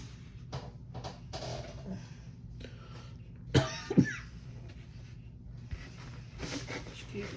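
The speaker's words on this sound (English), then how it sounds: "Excuse me for coughing" A person coughs a couple of times sharply and close, amid quiet rustling and small clicks of jewelry-making beads and tools on a work table.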